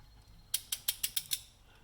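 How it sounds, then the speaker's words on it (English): A torque wrench ratchets while a fastener is tightened to 16 foot-pounds: six crisp, evenly spaced metallic clicks in quick succession, close and clear against a quiet background. "I'm going to torque it to 16 foot-pounds"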